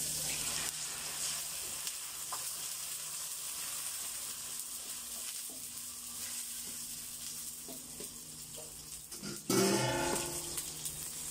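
Annatto (atsuete) frying in oil with onions for beef kare-kare gives a steady low sizzle, then a louder burst of crackling near the end.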